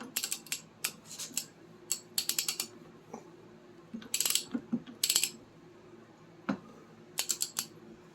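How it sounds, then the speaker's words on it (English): Torque wrench tightening a front suspension bolt on a 1970 Triumph TR6 during a rebuild: a series of close, sharp metallic clicks and ratcheting bursts in irregular clusters, with tool clinks between and no speech. "So we will torque that down."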